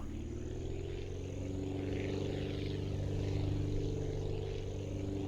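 Propeller plane engine from the Aviassembly flight game, droning steadily and loudly throughout with a constant low hum and slight swell as it slowly builds toward takeoff, no voices.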